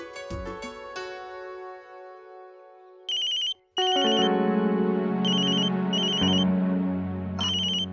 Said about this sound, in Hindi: माँ का फोन है।